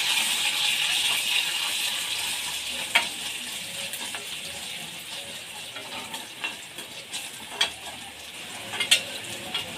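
Onions frying to golden brown in a pan for carrot siru paruppu kootu, a soft steady sizzle throughout. A spoon scrapes and taps against the pan now and then as they are stirred.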